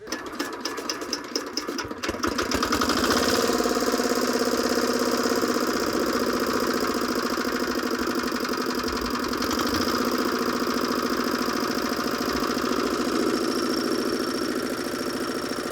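Mangal nano tractor power tiller engine running steadily and loudly after a brief start-up clatter, a continuous mechanical drone with a dense rattling texture throughout.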